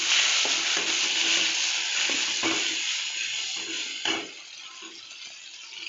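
Onion, tomato and garlic paste fry in a pan while being stirred: a steady, close sizzle with scraping spoon strokes throughout and no talk.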